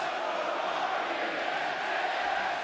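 A large arena crowd at an AEW wrestling event roars and cheers for MJF during his match against Darby Allin, a steady dense wash of voices with no pauses.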